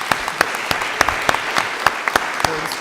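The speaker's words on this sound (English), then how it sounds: "Thanks again, and give them a applause." An audience at a conference panel gives steady applause, a dense patter of many hands clapping with a few sharper individual claps standing out, heard close and fairly loud.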